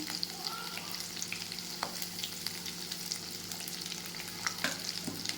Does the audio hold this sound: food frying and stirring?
yes